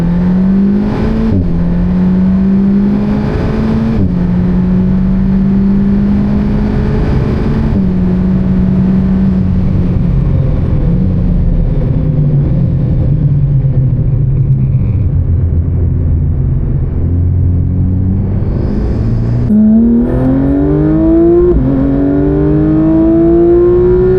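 A car laps the Spa-Francorchamps circuit, its loud engine note rising and falling steadily through gear changes and braking for about twenty-four seconds, with a sharp climb in revs near the end; no one talks.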